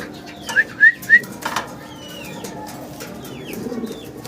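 Fancy magpie pouter pigeons, kept as pairs with heavily feathered feet, call from a loft: three short, bright calls come in quick succession near the start, followed by fainter scattered chirps over a quiet background.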